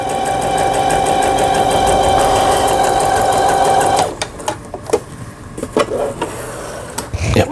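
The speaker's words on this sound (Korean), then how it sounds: "싱거 컨피런스 7640이라는 기계 수리를 마치고 박음질하는" A Singer Confidence 7640 sewing machine stitches after repair with a fast, steady mechanical hum for about four seconds, then stops, followed by scattered close clicks and handling knocks.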